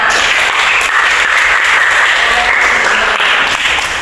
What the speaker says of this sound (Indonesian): kasih tepuk tangan buat kita semua